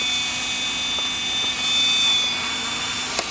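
Small tricopter drone propellers spin in a steady, continuous high whine with faint sharp ticks, held at a fairly even level throughout with no talking.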